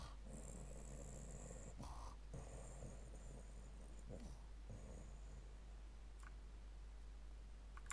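A voice imitating loud, rough snoring for a sleeping character lying on top of a guard, in a tabletop game session. The snorts come in uneven noisy bursts over a steady background hum.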